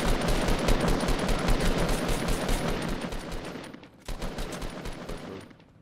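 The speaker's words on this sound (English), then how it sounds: "Just keep shooting at him" Rapid automatic gunfire in the video game Fortnite, loud, continuous bursts of shots for several seconds, a brief pause, then more firing before it tails off.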